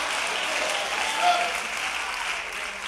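A church congregation claps during a sermon, a steady wash of applause throughout with a brief swell midway.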